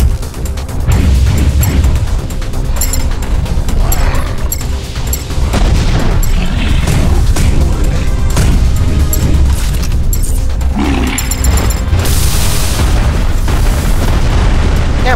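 Missiles fire and explode in the robot-building video game MASS Builder, a loud, continuous barrage of booms and blasts with metallic crashes layered over each other, and no pause in the roar.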